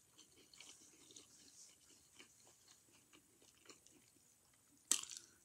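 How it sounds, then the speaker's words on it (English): Crunchy sweet and sour chicken being chewed close to the mic, a quiet run of soft rhythmic crunching bites, ending in one sharper louder crunch. "You hear that crunch? That's what I like with that chicken."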